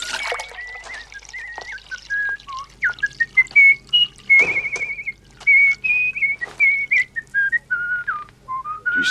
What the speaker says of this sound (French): Tu siffles joliment.